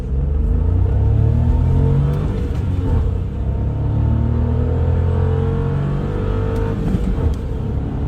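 A Jogger car's engine roars steadily close by as it accelerates from a standstill, revving and pulling hard with a continuous rumbling drone that rises as it speeds up.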